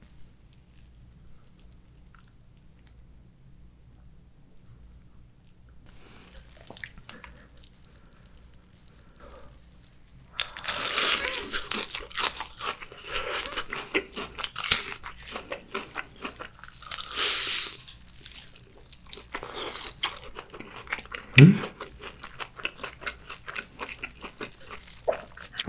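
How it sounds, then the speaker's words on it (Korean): Crunchy cheese balls dipped in cheese sauce are bitten and chewed close to the mic in a Korean mukbang. The bites are loud and crisp, followed by steady chewing after a quiet start, with no talking. "이번엔 치즈 소스 찍어서 먹어볼게요."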